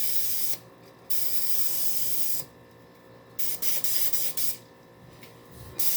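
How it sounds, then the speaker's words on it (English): Bursts of non-stick cooking spray hissing into a cake pan for an upside-down pineapple cake, three loud sustained sprays followed by several short quick puffs, close up. "So we're going to spray this so it won't stick"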